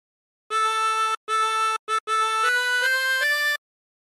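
A chromatic harmonica plays a phrase of Drunken Sailor in clean sustained notes, a few short repeated tones and then a rising run, close and clear with no talk.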